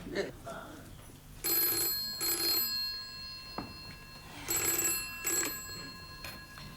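A telephone rings in two repeated double bursts on a home line, moderately loud, while an outgoing call is placed; quiet background murmur and faint voices sit between the rings.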